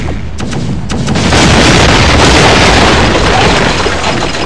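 A ship's cannon fires in the Pirate Core naval combat video game, and a loud, sustained explosive boom with rumbling debris fills the whole stretch and drowns everything else.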